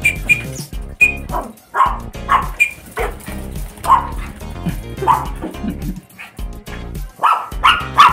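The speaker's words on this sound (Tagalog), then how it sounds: "Hinahabol siya ng alaga ng maliit na aso ito." A small dog barks and yips while chasing a pet African lovebird, with repeated close barks in irregular bursts mixed with whimpers and a few bird chirps.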